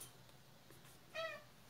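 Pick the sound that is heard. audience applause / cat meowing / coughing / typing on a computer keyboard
cat meowing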